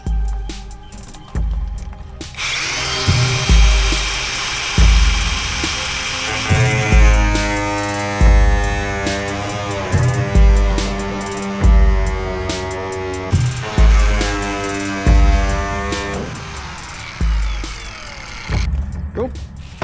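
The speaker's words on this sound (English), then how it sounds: "We're just going to cut it slightly bigger and then just sand it back to make it fit nicer." A power tool cuts an airbox panel for a Nissan GQ Patrol with a 304 5L V8, running in repeated buzzing bursts with short pauses between them, loud and close.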